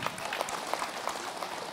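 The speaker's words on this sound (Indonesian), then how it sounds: "Cirebon, tepuk tangan dulu." A studio audience at an Islamic talk show claps briskly, a dense crowd of hands with individual claps popping out of the steady patter, moderately soft and continuous.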